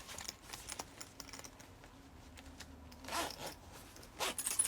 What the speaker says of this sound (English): Got dual zippers.